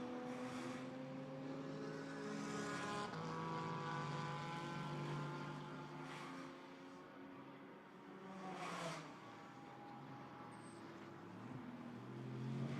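An Aston Martin GT4 race car accelerates during qualifying at Misano in the GT4 European Series, its engine note rising through gears in repeated upshifts, steady and moderately distant, with a buzzing harmonic whine.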